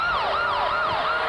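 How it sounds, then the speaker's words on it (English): A police siren wails loud and close on a late-1990s Ice Warriors game show, its rising and falling tone sweeping repeatedly over a continuous wash of background noise. "Oh, the police siren goes again."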